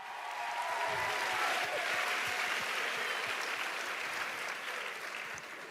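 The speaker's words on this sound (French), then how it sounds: "Allez, applaudissez." A large audience applauds at an event, a dense, sustained wave of clapping that holds steady for several seconds before easing slightly, with no talk over it.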